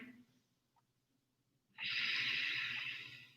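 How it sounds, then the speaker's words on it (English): Deep yoga breathing during a forward fold: quiet at first, then from about 1.8 seconds a long, loud, breathy exhale close to the mic that fades slowly. No talk. "Take another 2 deep breaths here."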